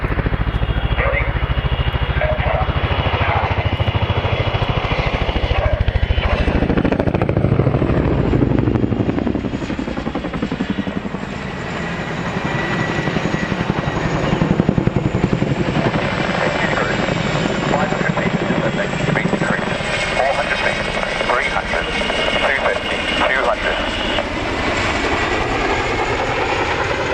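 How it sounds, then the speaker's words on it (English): Military helicopter flying pedal turns at the RAF Cosford airshow, its loud, continuous rotor and turbine roar swelling and shifting in pitch as the aircraft pivots, with a voice talking over it. "they begin setting the aircraft up for the second of the pedal turns"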